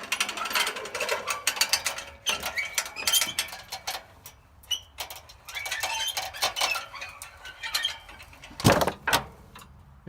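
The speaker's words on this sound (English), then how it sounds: "I'm just gonna use the winch on the dolly here to try and get her going straight." A ratcheting winch on a car dolly clicks and grinds through rapid, irregular bursts of metallic pawl ticks, close and fairly loud, with short pauses between cranks and a sharp clunk near the end.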